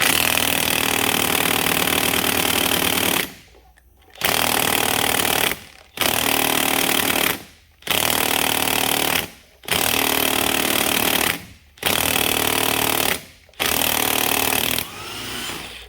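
A power tool loosens engine cylinder head bolts, sounding as loud, close bursts of hammering rattle, each about two seconds long and separated by short pauses, repeated about seven times.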